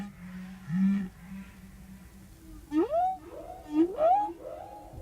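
A humpback whale sings underwater off Hawaii in the winter courtship season, captured by a hydrophone: a low moan followed by two rising, whooping upsweeps with trailing groans, clear and isolated.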